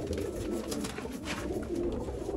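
Pigeons offered for sale coo steadily at close range, a dense, continuous murmur of several birds with no talk over it.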